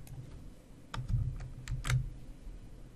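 Typing on a computer keyboard in a quiet room: a few scattered key clicks, then two short bursts of quicker keystrokes with soft low thumps, moderately close and alone without voices.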